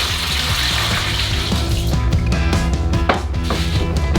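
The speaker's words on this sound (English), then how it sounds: "For the dough, pour 3 liters of 330 milliliters of water." Water poured for a large batch of bread dough beside a wood-fired oven, a steady, loud splashing pour that runs continuously from start to finish with no talking.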